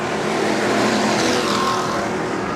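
Sportsman race cars roar together at Nobles County Speedway, a loud dense engine wash sweeping past continuously at full throttle.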